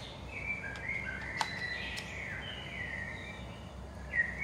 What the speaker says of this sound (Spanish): de fondo los pájaros me encantaron